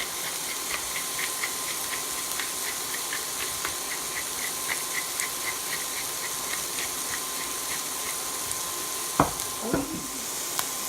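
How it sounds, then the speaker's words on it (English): Butter melts and sizzles steadily in a frying pan, a soft continuous crackle with small pops, followed near the end by a couple of sharper clinks of a utensil against the pan. "I'm going to add the butter first and let that melt."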